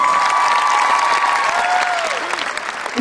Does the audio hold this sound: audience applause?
yes